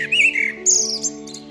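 A blackbird sings in a garden in Plérin, Côtes d'Armor, with short, clear whistled phrases close by over a steady low hum.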